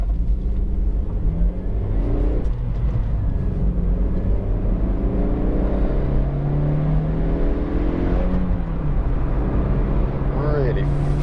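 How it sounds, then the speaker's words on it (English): Honda CR-Z 1.5 IMA hybrid engine while driving, a steady low hum and rumble from the cabin with gear-change rises in pitch, heard beneath someone talking almost throughout. "Fabulous engine, it really is."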